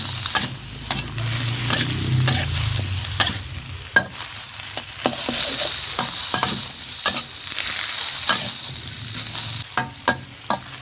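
Sponge gourd and egg stir-fry in a hot pan, a steady sizzle broken by repeated sharp scrapes and taps of the spatula, close and fairly loud with no talking.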